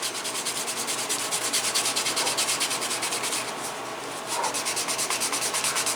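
A leather edge on an IWB holster for a Hellcat pistol is burnished by hand: close, rhythmic rubbing strokes in a fast, even back-and-forth pattern, with a brief lull near the end before the strokes resume.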